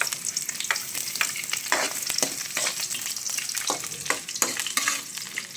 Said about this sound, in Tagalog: Gigisahin pala natin mga ka-idol yung mga panamya. Ayan. Una muna natin yung luya.